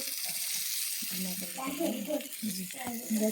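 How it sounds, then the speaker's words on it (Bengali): Fish curry sizzles in a small pan in a mini kitchen, a soft, steady frying hiss that runs beneath a voice talking intermittently over it. "মাছটা কিন্তু অনেক সুন্দর রান্না হচ্ছে"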